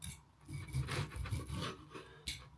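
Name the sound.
cutting cooked food with a bread knife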